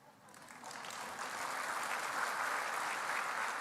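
Applause from an audience swells up from quiet and holds as a dense, steady wash of clapping.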